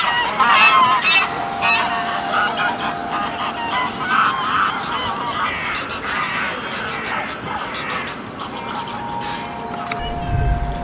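Geese honk and cackle in a loose flock alongside ducks, overlapping calls carried over a dense wash of outdoor noise, loudest at the start and thinning out toward the end.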